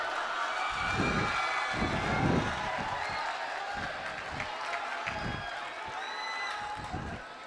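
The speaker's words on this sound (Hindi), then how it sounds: "जोरदार तालियों से इनका स्वागत कीजिए।" Crowd at a school annual function greets the arrival of a leader in a comic drama with clapping and cheering, mixed with loud bursts of voices and thumps throughout.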